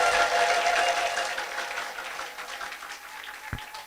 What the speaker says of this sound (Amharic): እስቲ አጨብጭቡ እስቲ ለጌታ ክብር